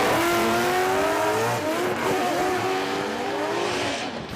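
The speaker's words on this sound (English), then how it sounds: "that crazy sound coming from Mopar NASCAR motor under the hood of that Altezza" A NASCAR-style Mopar V8 engine in a Toyota Altezza drift car roars loudly and steadily at Suzuka Twin Circuit, its pitch rising and falling as it revs and shifts, with no other sounds breaking through.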